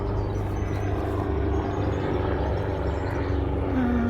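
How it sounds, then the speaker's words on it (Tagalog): A helicopter passes overhead above a community garden allotment, a steady, loud low rotor drone filling the whole stretch with no break. "Sorry, there's an helicopter."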